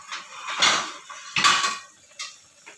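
A metal lid goes onto a cooking pot of chicken broth, with a few close clanks and scraping clatters of metal on metal, separated by short quiet gaps.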